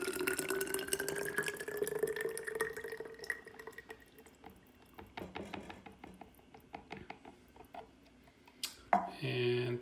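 Red wine vinaigrette of oil and vinegar is poured into a container, a thin rising trickle that shifts into drips and small clinks, ending with a louder handling sound.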